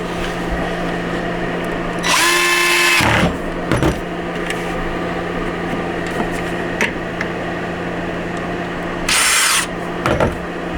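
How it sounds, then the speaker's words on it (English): A power drill whirs in a short burst while pre-drilling holes in wood, pauses, then revs briefly again later, with faint tool clatter and handling noise between. "is to pre-drill your holes"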